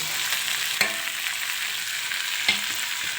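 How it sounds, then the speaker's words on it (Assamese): Onions sizzle steadily in a hot pan, a continuous crackling hiss with a couple of sharp utensil taps against the pan; no one speaks. "পিঁয়াজখিনি অকণমান ভজা হ'লেই"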